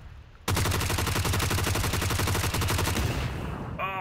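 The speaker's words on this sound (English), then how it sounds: "He's shooting at me." Rapid automatic gunfire in PUBG, a dense, loud burst of shots that runs continuously for about three seconds before cutting off.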